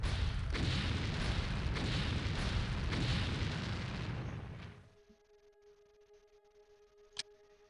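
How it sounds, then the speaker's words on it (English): Vortex bombs explode in the OpenApoc game as a continuous, loud, rumbling barrage of booms for several seconds. The blasts then cut off abruptly into near silence, broken by one faint click. "these are vortex bombs"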